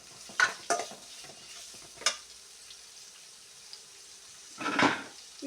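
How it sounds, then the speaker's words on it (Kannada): Onions deep frying in a pan for vegetable pulao, heard as a few short bursts of stirring and sizzle with quieter gaps between, close and fairly loud, no talk. "ಈರುಳ್ಳಿ ಡೀಪಾಗಿ ಫ್ರೈ ಆಗಲಿ"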